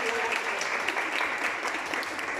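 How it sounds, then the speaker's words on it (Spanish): An audience at an evening talk in Elche applauds steadily, a dense wash of clapping hands holding at even loudness from start to finish. "Un aplauso para Supervino."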